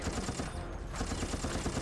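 Rapid gunfire bursts in the video game Resident Evil: Operation Raccoon City, dense overlapping shots crackling continuously with a brief lull midway, loud and close.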